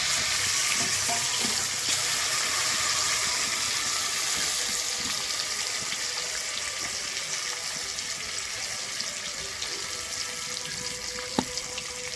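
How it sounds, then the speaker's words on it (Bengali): Pieces of katla fish fry in hot mustard oil in a kadai for doi katla, giving a steady, dense sizzle that runs the whole time with a few faint clinks. "আমি কড়াইতে সর্ষে তেল দিয়ে দিয়েছি আমার তেলটা গরম হয়ে গেছে প্রথমে মাছগুলোকে ভেজে নেবো"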